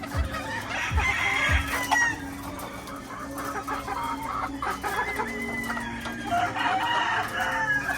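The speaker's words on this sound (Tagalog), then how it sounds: "magpapakain na tayo ng inahin" Hens cluck steadily near and far while being fed, with a rooster crowing through the flock and a few low thumps early on.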